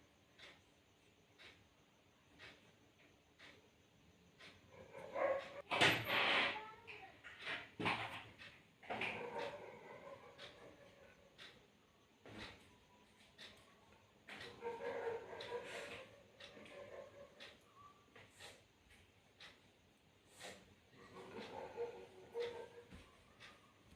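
A small dog whimpers and yips in short bursts, with quieter gaps and some shuffling between the cries.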